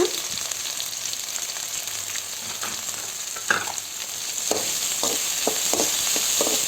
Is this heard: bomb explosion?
no